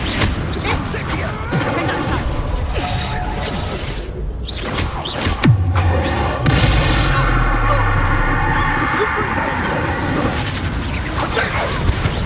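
Spell combat in Hogwarts Legacy on PS5, dense fiery whooshes and bursts layered over a continuous rumble with rapid crackling impacts, loud and close, amid shouted game dialogue.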